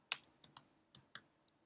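Keys tapped on a computer keyboard while typing a search entry, about six crisp, close clicks in an irregular rhythm over under two seconds, with no talking.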